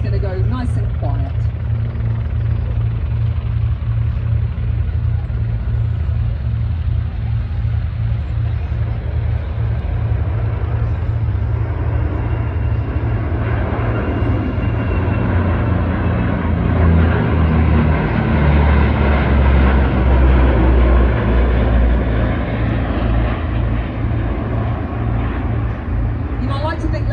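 Warbird propeller aircraft bank through a turn at the 2024 Warbirds Over Wanaka airshow in New Zealand, their engine drone swelling louder as they pass, with a voice speaking over the steady roar.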